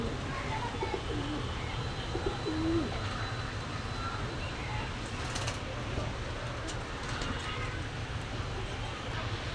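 Kasuri and Pakistani high flyer pigeons coo softly in a low, muffled shop setting, the faint burbling calls sitting under steady background noise and someone speaking nearby.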